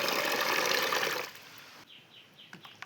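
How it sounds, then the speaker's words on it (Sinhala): Water pours into cattle feed to make a thin gruel, a steady splashing rush for about a second that then stops, leaving quiet room tone with faint bird chirps. "මේවට අපි ඊට පස්සේ වතුර මේ විදිහට එකතු කර ගන්න ඕනේ."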